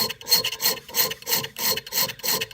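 A hand file rasps across a key blank being cut by code, quick rhythmic back-and-forth strokes, about eight or nine in a couple of seconds, close and clear with no talking.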